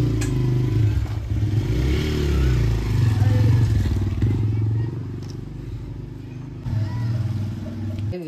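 A motorcycle engine hums steadily while riding on a rainy day, a low continuous drone with rattles and slight revving, while people talk over it throughout.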